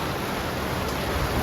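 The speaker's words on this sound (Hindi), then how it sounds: "झमाझम बारिश आ रही है।" Heavy rain pours down in a dense, continuous hiss, loud and even across the whole short stretch with no voices.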